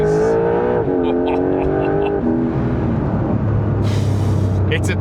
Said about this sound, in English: the real combustion engine sound starts to drown out what we're hearing in the speakers.